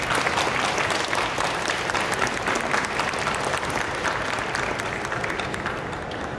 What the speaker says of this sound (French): vous pouvez aussi accueillir sous vos applaudissements Koji Terayama